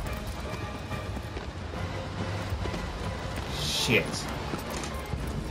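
Horse galloping in the video game Shadow of the Colossus, steady hoofbeats under dense game noise, with a voice briefly cursing near the end.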